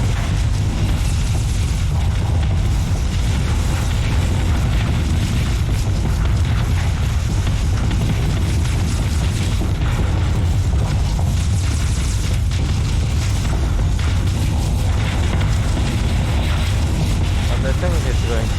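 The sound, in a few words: ships shooting and explosions in the video game Starsector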